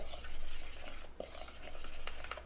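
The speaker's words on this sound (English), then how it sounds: "we're going to mix that together to kind of make our icing" Cream cheese icing mixture being stirred in a bowl, a steady scraping swish that continues close and fairly loud for the whole stretch, with a few small clinks of utensil against the bowl.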